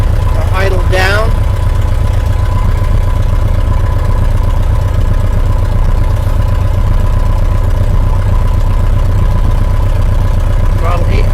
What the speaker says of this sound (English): Since it's cold, we're going to keep our idle down.